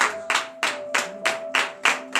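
A congregation at a morning prayer gathering in Comè, Benin claps in unison, with about seven sharp, evenly spaced claps in a steady rhythm at moderate volume over a faint sustained tone.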